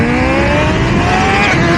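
A Suzuki GSXR 1000 motorcycle accelerates hard in first gear during a roll race, its engine note climbing steadily, loud and close throughout without pause.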